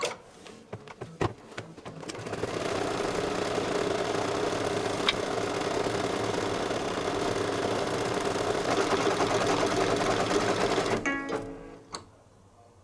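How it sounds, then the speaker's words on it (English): A sewing machine stitches all-over quilting on a fabric oven mitt potholder, giving a steady, fast mechanical hum and whir for about nine seconds, framed by a few quieter clicks before and after. "Now it's going to do the all over quilting stitching."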